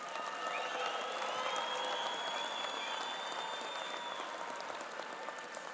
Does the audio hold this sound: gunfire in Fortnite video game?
no